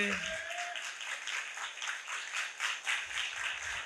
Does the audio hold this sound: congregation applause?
yes